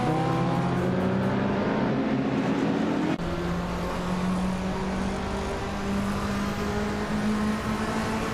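Vintage turbocharged 1982 Lancia 037 Stradale racing engine at a Long Beach race start, a loud sustained drone that drops in pitch with a sharp shift partway through, then holds a steady steady roar.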